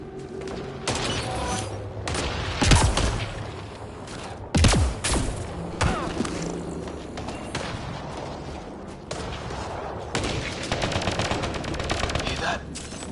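Video game gunfire crackles in sharp bursts and single heavy shots, loud and close, with a couple of booming impacts and brief character speech amid the shooting.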